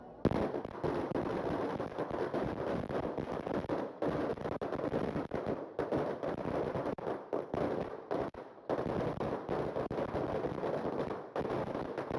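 A long string of New Year firecrackers in Aruba crackles in a rapid, continuous barrage of sharp pops for several seconds, dense and fairly close, with brief gaps.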